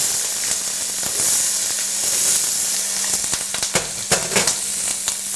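Whole corn kernels sizzling in a hot pan, a close, bright crackling hiss with sharp pops and spits growing busier toward the end.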